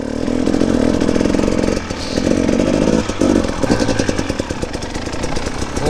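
A hard enduro motorcycle engine roars close and loud through rough terrain near an old mine site, with steady high revs that dip briefly and then surge again in choppy bursts.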